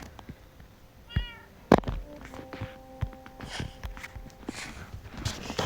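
A cat meows once in the Minecraft video game, a short clear game-sound mew heard over soft blocky footsteps and scattered clicks and thuds of play.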